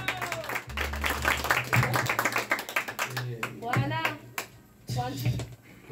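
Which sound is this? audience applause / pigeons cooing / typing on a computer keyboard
audience applause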